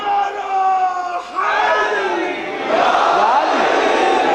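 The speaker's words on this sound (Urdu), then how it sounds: "آپ نے نعرے لگوا دیے" A large crowd at a Shia majlis mourning gathering for Imam Hussain loudly chants a religious slogan in unison, voices swelling in repeated surging waves that fill the hall.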